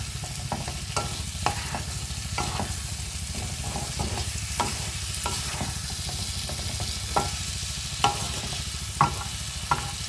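Vegetables with spices sizzling and frying in a pan for a spicy arbi and prawn curry, a steady close hiss broken by repeated scraping clacks of a spatula stirring, with no talking.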